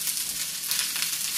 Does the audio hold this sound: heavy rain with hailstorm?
no